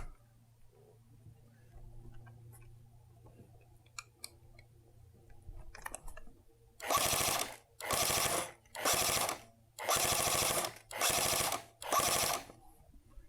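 An A&K M60 airsoft machine gun fires six rapid bursts in quick succession, each a dense, loud mechanical rattle close by, following a quieter stretch of handling noises.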